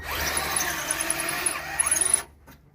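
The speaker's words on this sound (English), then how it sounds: "You can drill them all the way through if you need to." Power drill boring into car body metal on a 1968 Mustang with structural damage, a continuous whining, grinding drill tone with a high squeal that stops abruptly near the end, close and fairly loud, with no talking.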